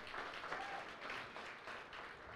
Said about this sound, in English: You got a round of applause without even asking for it.